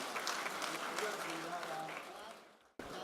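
An audience at an Urdu mushaira in Qatar applauds, a thick patter of clapping with a voice over it, tapering off before cutting out abruptly.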